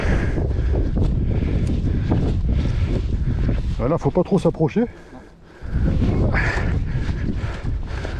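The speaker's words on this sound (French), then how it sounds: "le vent est un peu frais quand même" Steady wind rumbling across an outdoor microphone, with a person speaking briefly in the middle before the gusting noise returns.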